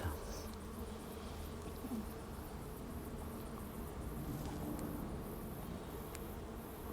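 Honey bees buzzing in an open hive during an inspection, a dense continuous hum close by, steady and moderately quiet with no talk over it.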